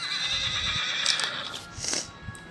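A horse neighs in a short, high, shaky whinny, preceded by softer snorts and hoof movement, close by and clear.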